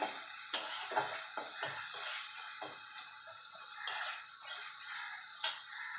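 Spice masala with ginger paste and green chillies stir-fried in a pan for moong dal, soft steady sizzle broken by sharp scrapes and clinks of a spatula against metal, close and alone with no talk.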